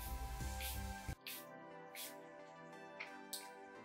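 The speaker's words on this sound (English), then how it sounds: "I'm gonna go in with my OM Glow spray in the dark. Just mist that" An OM Glow face spray mists in several short, soft hissing bursts spaced about a second apart, faint and close, with quiet background music underneath.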